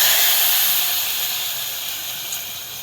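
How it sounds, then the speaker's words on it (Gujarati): Hot tempering of asafoetida and curry leaves poured into Kathiyawadi kadhi, a loud, steady sizzling hiss that slowly eases as it continues, close up and with no voices. "વઘાર બરાબર કઢીમાં નાખી"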